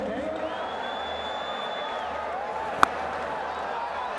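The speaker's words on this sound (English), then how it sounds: "It's a very good crowd here at Lahore." A packed cricket stadium crowd in Lahore roars steadily as a distant, continuous wash of cheering, with a commentator talking over it and one sharp clap-like crack partway through.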